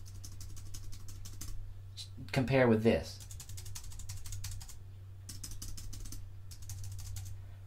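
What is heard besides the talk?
typing on Matias aluminum wireless keyboard for Mac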